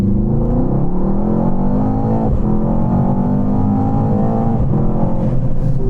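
Audi RS7, BMW M8 or Mercedes-AMG GT 4-door performance car pulling hard down a runway after a restart, its loud engine note climbing steadily through the gears with a brief shift dip, sustained and close throughout.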